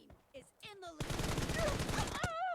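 Gunfire in PUBG Mobile during a 1v1 arena match: after a brief voice, a dense, sustained burst of rapid shots fills the rest of the clip, loud and continuous, with talking mixed in.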